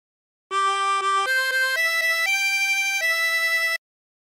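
A 24-hole tremolo harmonica plays a short phrase of La Cucaracha, several sustained reedy notes stepping upward and holding, with a wavering tremolo shimmer, clear and alone.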